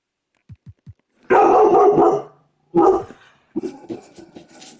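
A dog gives a few soft whimpers, then bursts into two loud, close bouts of barking, followed by quieter yips and grumbles.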